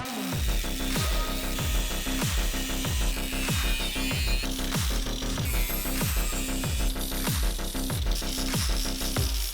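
A metal bed frame being cut and ground at its corners, heard as a loud, continuous abrasive power-tool whine with regular rhythmic surges, close and alone.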